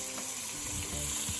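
Tomatoes dropped onto browned onions sizzle steadily in a pan, a soft continuous frying hiss with a faint stirring scrape, no voices.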